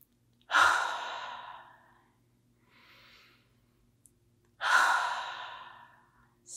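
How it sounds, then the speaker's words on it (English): A person taking slow, deep meditative breaths, drawing air in through the nose and out through the mouth: two loud, long airy breaths with a fainter breath between them, close and alone in a quiet room. "take 3 deep breaths in through the nose and out through the mouth"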